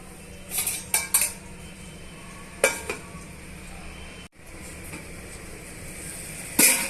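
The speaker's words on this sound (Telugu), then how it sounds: "ఇవన్నీ బాగా మిక్స్ చేసుకొని ఉడకనివ్వాలి" A spoon scrapes and clinks against a pan while curry masala is stirred, with a few sharp metallic knocks standing out over a steady low background, close and fairly loud.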